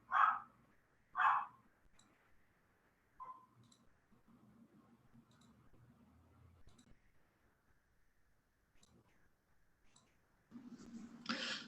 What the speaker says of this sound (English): while Gilda is happily barking